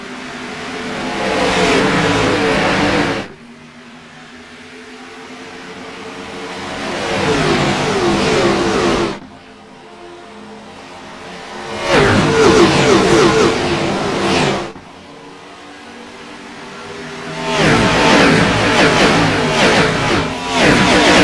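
Stock race cars of the Gen 6 Cup Series at Homestead Miami Speedway roaring in loud surges as they accelerate, the engine noise rising and cutting off repeatedly in several bursts separated by quieter gaps.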